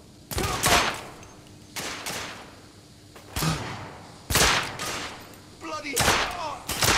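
Heavy gunfire from the shooter video game The Order: 1886, with several loud blasts and bursts spread over the clip and shouting voices between the shots.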